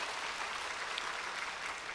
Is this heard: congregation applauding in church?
yes